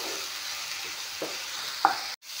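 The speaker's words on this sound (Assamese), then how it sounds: "যাতে মাংসখিনি ভালদৰে ভজা যায়" Chicken meat frying with onions in a pan, a soft, even sizzle with a couple of light utensil clicks before it cuts off abruptly.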